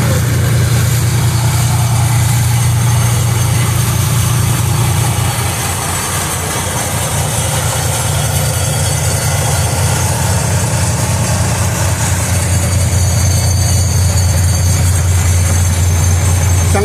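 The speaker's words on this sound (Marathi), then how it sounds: "पंप लावलेले आहेत" Water pumps draining a flooded street during heavy rain at night, a loud continuous engine-like drone with a steady low hum that dips briefly midway, no talk.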